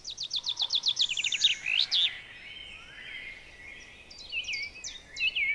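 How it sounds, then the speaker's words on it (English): A male chaffinch in spring woodland calls and sings nearby, a rapid run of bright repeated notes ending in a flourish, followed by further chirps and a second, fainter song phrase. "The calls of the male chaffinch at this time can be heard everywhere and at all times."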